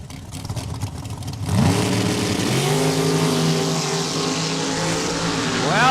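A 1972 Dodge Dart drag car on a Saskatchewan drag strip idles loudly, then launches with a sudden roaring engine surge climbing through the gears, near and powerful, no talk.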